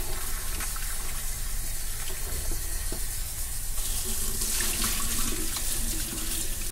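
A cucumber being washed under a running kitchen tap, a steady close rush of water splashing into a sink throughout, with no talking.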